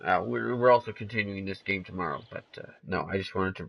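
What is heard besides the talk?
No distinct noise like a dog, phone or traffic.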